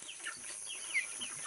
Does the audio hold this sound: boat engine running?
no